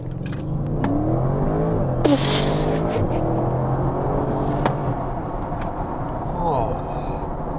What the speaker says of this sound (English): This is launching an RS7.